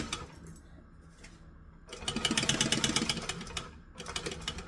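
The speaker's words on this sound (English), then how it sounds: "I'm just going to sew the 2 long lines. We're going to stitch and back stitch because we always back stitch." A sewing machine runs in a close, steady whir, pausing briefly and then starting again as it stitches and back stitches two long lines.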